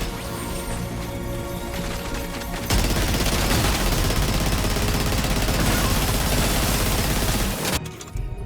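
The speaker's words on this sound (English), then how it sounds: "The Magellan's main cannon is online and ready to provide fire support." Main cannon artillery fire support from the ship Magellan in the video game Death Stranding 2, a dense, loud barrage of blasts and crashing impacts that erupts after a quieter stretch and rumbles on for several seconds before cutting off.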